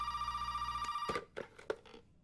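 Telephone ringing in the survival horror game Resident Evil 7, a sustained electronic bell trill that stops partway through, followed by a few sharp clicks and knocks like a receiver being handled.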